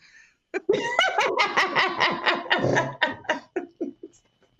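A year-old pet dog barks in a run of about ten sharp, loud yaps close by, irregularly spaced and trailing off into a few softer yips.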